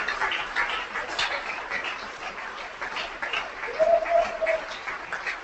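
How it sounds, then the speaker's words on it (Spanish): Members of a church congregation clap together during a sermon, a moderate, steady wash of applause with a brief tonal cry rising near the end. "Un aplauso al Señor."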